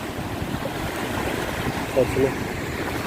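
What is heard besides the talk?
water crashing at Hazra waterfall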